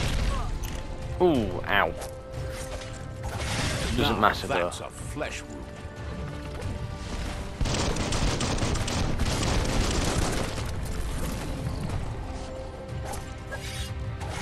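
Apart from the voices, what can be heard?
gunshots in the video game Biomutant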